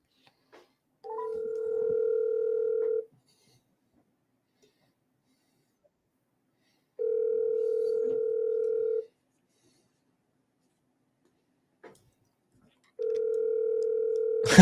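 A telephone line gives three evenly spaced steady tones, each lasting about two seconds and separated by several seconds of silence, clear and alone.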